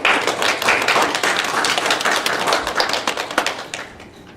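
Church congregation claps for the choir at a Sunday service, a burst of many hands clapping close and lively that thins into scattered claps toward the end.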